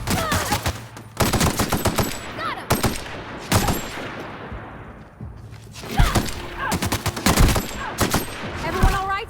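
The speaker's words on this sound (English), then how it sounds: "Assault rifle time." Assault rifle fire rattles out in repeated rapid bursts in the video game Outer Worlds, loud and close, with short pauses between volleys and a brief lull midway.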